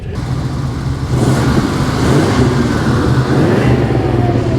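A 1981 Pontiac Trans Am Turbo drives past, its engine a loud, continuous low rumble that swells slightly midway and holds steady to the end, with no talk over it.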